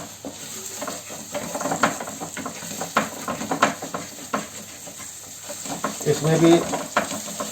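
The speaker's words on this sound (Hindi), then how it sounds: "ये जो हमने प्याज काटा है उसको भी हमने इसमें डाल दिया ताकि ये भी घी में भून जाए" Chopped onion fries in ghee for Jodhpur-style haldi ki sabzi, with a steady sizzle broken by repeated scraping stirs of a spoon in the pan and a brief spoken word.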